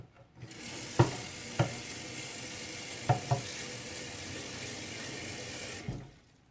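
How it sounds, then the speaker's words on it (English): A tap runs in a steady, moderate stream of water into a sink, with a few sharp clinks of something knocking against it. "So I'm just gonna get some water from the sink."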